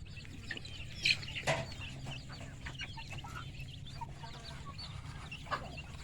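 Chickens clucking in a rice field, with a few short calls near the start and one more toward the end over a steady, low outdoor background.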